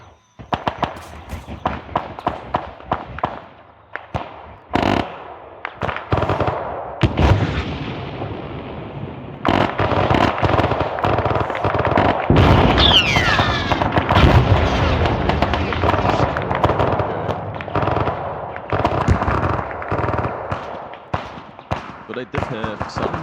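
Grenade launcher explosions and gunfire in the video game Arma 3, loud booms and sharp cracks arriving in irregular clusters, with dense sustained fire and blasts through the middle stretch and scattered shots toward the end.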